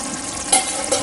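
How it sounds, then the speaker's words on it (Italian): Olives tipped into a pan of frying pasta sauce with peppers, a steady sizzle with a brief stirring clatter midway, close and moderately loud. "adesso vado a mettere le olive"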